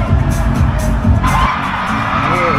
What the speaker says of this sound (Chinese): 也不知道谁，反正大家就尖叫。